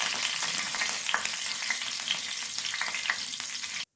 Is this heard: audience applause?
no